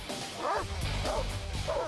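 A dog barks and yips in rapid, loud bursts as it attacks a man wearing a protective bite suit, with short whimpering noises between the barks and some scuffling movement during the struggle.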